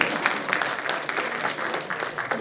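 Audience clapping at an alumni meet lecture hall as a university director is welcomed, a dense, steady wash of many hands, fairly close and loud, with no talk over it.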